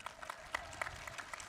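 An audience claps at an annual Hawaiian slack key guitar festival on Maui, a steady patter of scattered hand claps with a few sharper nearby claps standing out.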